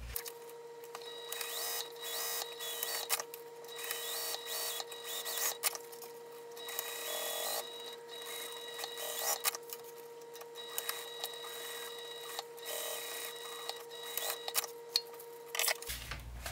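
A sewing machine stitching the sides of a crossbody bag runs in a steady, quiet mechanical whir with small ticking clicks, continuous for about sixteen seconds before stopping.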